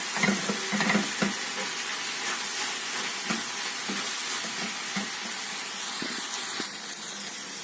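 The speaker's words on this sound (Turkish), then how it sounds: "Ve güzelce karıştırıyorum." Red pepper flakes stirred into a meat sauté with tomatoes, a loud steady sizzle of frying filling the whole stretch, with occasional soft knocks of the spoon against the pan.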